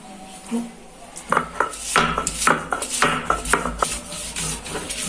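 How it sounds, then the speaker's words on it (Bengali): Green chilies, coriander and salt ground together into a paste: rhythmic rubbing strokes with hard clacks and scrapes, close up, steady and moderate in loudness, with no talking. "এখন কাঁচামরিচ ধনেপাতা ও লবণ একসাথে বেটে নেব"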